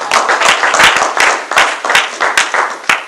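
A church congregation applauding during a service, with loud, uneven clapping that comes in repeated bursts and is punctuated by sharp single claps.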